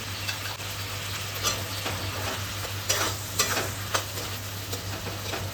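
Fried potatoes being stirred into a sizzling egg curry masala in a pan, a steady close frying hiss with occasional spoon scrapes and clinks throughout, no voices.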